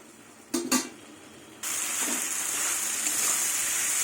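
Potatoes, flat beans and onion greens sauté with fish in a pan. Two quick clinks of a utensil are followed by a steady, loud sizzle that swells and then holds, close by, with no talk.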